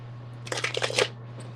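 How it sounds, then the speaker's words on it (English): A deck of playing cards being shuffled up close, a quick burst of riffling and flicking for about half a second over a steady low background hum, with no talking. "Alright, let me shuffle up."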